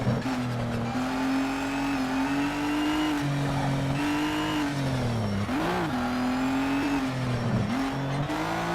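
Race car engine in Need for Speed Shift 2 on a PS3, droning loudly and steadily with pitch rising and dipping through gear changes and revs, plus occasional tire squeal.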